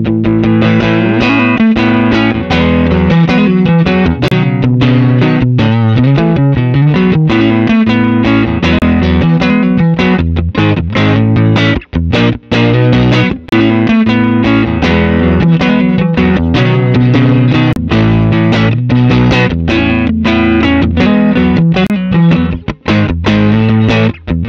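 Heavily distorted electric guitar through a mic'd cabinet and a captured impulse response plays a loud, sustained riff with dense chords and chugging rhythm throughout.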